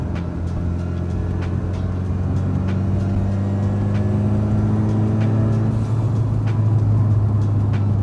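Subaru STI with new PERRIN engine mounts driving along, a steady low engine drone and road rumble that builds gradually, loud and close from inside the car, with no talking.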